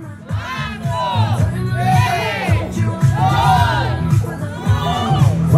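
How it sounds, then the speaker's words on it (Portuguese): A birthday party crowd shouts loudly in unison, a rising chorus of voices calling out numbers in turn, with whoops and cheering between each shout. "vamos fazer a contagem regressiva pra ela bem alto"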